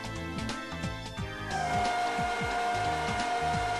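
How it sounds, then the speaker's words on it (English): A solid carbide end mill, 25 mm in diameter and held in a BT holder, does shoulder milling with loud rhythmic cutting pulses, then a shrill sustained chatter tone sets in halfway and continues steadily. "A shrill chattering noise can be heard."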